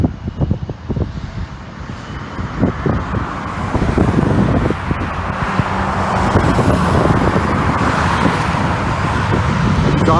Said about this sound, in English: when you hear his engines roar, you know he's been given takeoff clearance